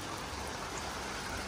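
Steady rain pours down around a resort in Bali, a dense, even hiss of drops on surfaces, fairly close and constant with no talking.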